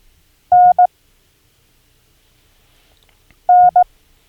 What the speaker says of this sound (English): and an N is a dash dot, like that